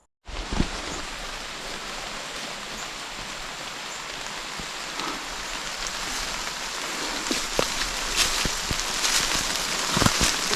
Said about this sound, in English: So the radar said the rain was going to hold off for us, but apparently not.